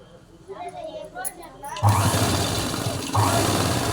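A sewing machine stitches half-silk piping onto a blouse; a voice talks first, then the motor kicks in with a loud, close, continuous whirring run that surges briefly again near the end.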